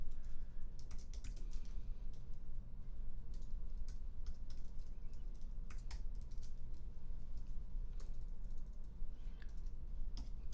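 Typing a note on a computer keyboard in a medication records program, a steady patter of soft keystrokes, close and quiet, over a faint background hum.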